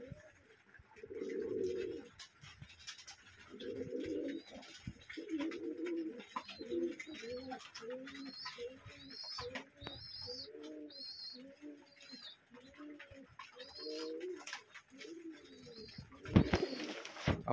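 Racing pigeons in a loft at morning feeding time give soft, repeated cooing in a steady rolling rhythm. Faint higher chirps and light shuffling sit over the cooing throughout.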